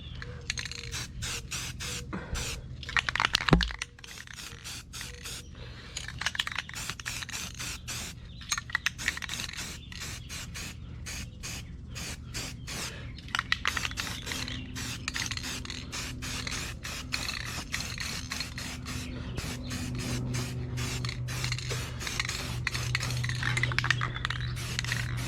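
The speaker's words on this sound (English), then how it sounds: "we got some black spray paint or primer" Black spray paint or primer hissing from an aerosol can onto a vehicle's roof trim, repeated short close bursts in a steady rhythm, with a sharp clatter early on and a faint mechanical hum underneath.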